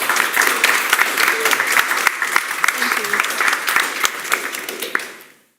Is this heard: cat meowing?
no